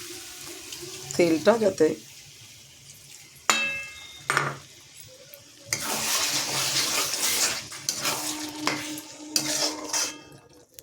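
Water poured into a cooking pot of goat meat being braised in oil on a gas stove, a rushing, splashing pour in the second half after scattered clinks and sizzles, with someone speaking briefly.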